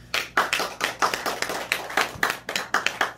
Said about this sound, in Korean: 다시 한번 더 박수 부탁드립니다